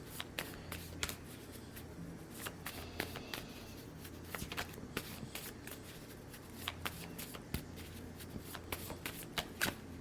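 Tarot cards being shuffled by hand, a steady run of crisp riffling snaps and soft slides close up, continuing for several seconds with no talk.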